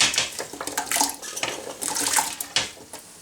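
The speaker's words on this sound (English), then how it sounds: "Chop your apple and then put it into a jam pan with water." Chopped apple and water splash and clatter into a metal jam pan for wartime mock orange marmalade, a close, busy run of pouring water and knocking pieces with no talking.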